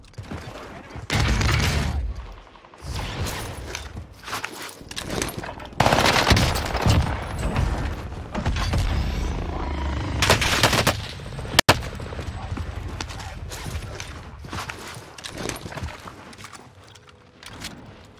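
SMG fire in the Call of Duty Warzone video game comes in loud, rapid bursts that repeat throughout, mixed with other game effects and one sharp crack near the end.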